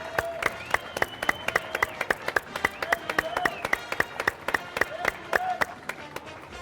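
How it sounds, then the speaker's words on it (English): A crowd lining the Novato Fourth of July parade route applauds outdoors with steady, scattered clapping. Sharp individual claps stand out from a softer wash of hands, and voices murmur beneath it. "Once again, a big round of applause for Peace Novato,"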